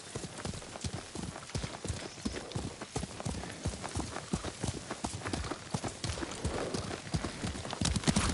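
Rapid, rhythmic hoofbeats of a galloping horse in the video game Ghost of Tsushima, steady and close, continuing throughout with faint background noise.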